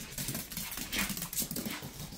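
A puppy whines and huffs in short, restless bursts close by, with panting breaths and scuffling between them.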